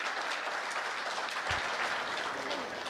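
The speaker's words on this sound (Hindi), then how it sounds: "एक बारी जोरदार तालियां बजाइए।" Audience applause following the introduction of a poet at a Hindi poetry recital, a dense steady wash of many hands clapping at moderate volume, sustained for a few seconds without voices.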